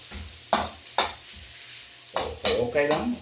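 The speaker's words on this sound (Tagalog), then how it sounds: "Ma-toast ko lang ang atong Bombay." Chopped onion toasts in a hot pan with a soft, steady sizzle, broken by several sharp scraping stirs of a utensil against the pan, close and clear, with no talking.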